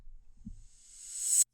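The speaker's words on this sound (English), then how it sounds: "that's going to give you a reversed buildup effect that sounds like this." Reversed cymbal buildup effect in a hip-hop beat: a faint low thump, then a bright hiss swelling steadily louder for about a second before cutting off abruptly.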